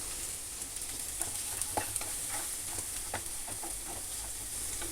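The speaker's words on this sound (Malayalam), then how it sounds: "ഇനി ഉള്ളി നല്ലതായിട്ട് മൂത്ത് വരട്ടെ." Chopped onions sizzle steadily in a hot pan, with soft scraping and stirring clicks scattered throughout; no talking.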